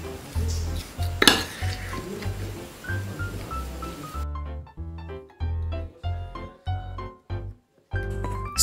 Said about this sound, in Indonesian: masukkan 60 gram tepung terigu protein sedang. Aduk lagi hingga merata.